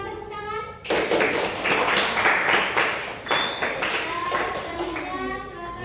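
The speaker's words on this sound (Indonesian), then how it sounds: "terima kasih, kita tepuk tangan." A classroom of students clapping hands together, a brisk burst of close claps starting after a brief voice and gradually thinning out over several seconds.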